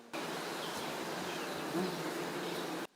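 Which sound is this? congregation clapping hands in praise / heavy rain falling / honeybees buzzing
honeybees buzzing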